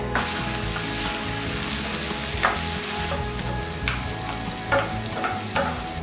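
Yellow spice paste fries and sizzles in a non-stick pan with bay leaves, lime leaves, lemongrass and crushed galangal, a loud steady close sizzle broken by repeated stirring scrapes.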